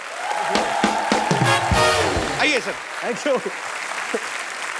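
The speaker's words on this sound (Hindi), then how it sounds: "जोरदार तालियां यार" Audience applause welcomes a guest on a comedy show, clapping under overlapping voices with a brief musical tone before a short exchange of greetings, fading slightly toward the end.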